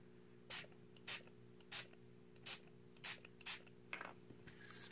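A spray bottle spritzes water onto an art journal page, giving about seven short, separate hissing bursts at a steady pace. The bursts are fairly faint, with quiet pauses between them and a low steady hum underneath.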